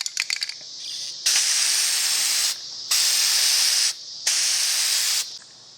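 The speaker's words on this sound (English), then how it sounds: "So I'll be using Krylon Now Primer Gray." Krylon gray primer hisses from an aerosol can onto an old tin-plate American Flyer standard gauge electric toy train in three long, loud, even sprays separated by short pauses, preceded by a few rattling clicks.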